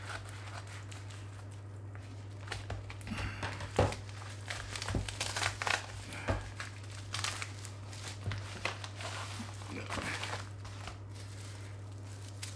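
Parcel packaging is cut open and crinkled: irregular rustling and crackling crinkles come and go over a steady low hum, fairly quiet and close, with no talk.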